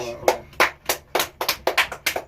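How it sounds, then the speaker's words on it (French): Hands clap about nine times in an irregular rhythm, sharp and fairly close, for a street barber's charity work cutting hair for orphans. "ça mérite des applaudissements"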